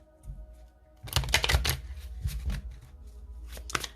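A deck of oracle cards is shuffled by hand in a quiet room, giving several crisp riffling bursts close up with short gaps between them.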